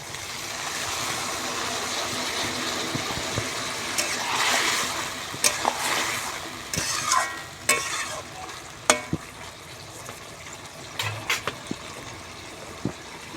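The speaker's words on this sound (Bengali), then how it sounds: "মশলার বাটি ধোয়া একটু জল নিয়ে এসছি অল্প করে সামান্য একটু জল দিয়ে দেবো" A little water splashes into a pan of frying taro stolons and spices, then the sizzle flares up as a spatula stirs and scrapes, with sharp clanks near the end.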